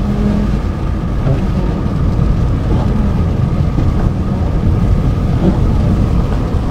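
Rain falls during a drive in a car, heard as a steady, loud rumbling wash mixed with road and engine noise from inside the vehicle, with no pauses.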